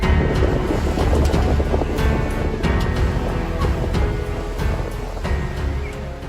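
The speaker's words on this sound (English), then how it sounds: "to witness a massive tsunami crashing onto the beach promenade. The water surges as if trying to devour everything, while the wind howls" Large waves crash against a beach promenade while wind howls, a loud, dense roar of surf and gusting air filling the whole stretch with repeated impacts, and no talking heard.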